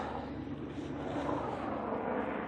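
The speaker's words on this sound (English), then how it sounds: "helicopter going over" A steady, broadband engine rumble of a helicopter passing overhead above an allotment, continuous and moderately loud throughout with no voices.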